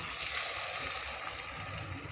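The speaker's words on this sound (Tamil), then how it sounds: "இப்போ நம்ம ரத்தத்தை சேர்த்துடலாம்." Fish blood is poured into onions frying slowly in a pan. Close sizzling hiss sits over a soft, watery bubbling and slowly eases off.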